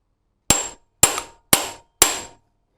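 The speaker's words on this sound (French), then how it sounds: "il faut prendre les bons moyens avec un tournevis à frapper" An impact screwdriver struck by a hammer on a Honda engine screw: four sharp, loud metallic blows about half a second apart, each ringing briefly before fading, with nothing else heard.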